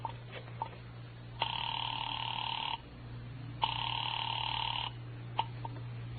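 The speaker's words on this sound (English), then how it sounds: "I dialed Bradshaw 711 and waited." A telephone in an old-time radio drama sound effect sounds two long ringing tones through the handset, each about a second and a half, separated by a pause, with a faint steady hum underneath.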